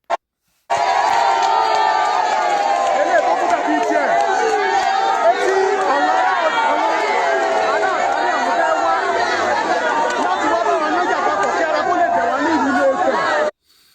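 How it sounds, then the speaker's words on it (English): A large crowd celebrating in Ife, a dense, loud roar of shouting voices and cheering, sustained without a break, then cutting off abruptly. "the people are celebrating. They are happy, cheering."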